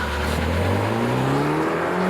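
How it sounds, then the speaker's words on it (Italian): A Peugeot 308 GTi by Peugeot Sport pulls away hard from standstill with a little wheelspin, its engine note climbing steadily in pitch through a loud, continuous run. "Un po' di pattinamento, però è partita. Da 0 a 100 in 6 secondi"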